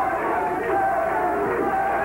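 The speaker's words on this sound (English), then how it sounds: "The crowd urging Kenny Bogner on" A boxing crowd at a lightweight bout sends up a steady, moderately loud roar of urging and cheering, with a commentator's voice running over it.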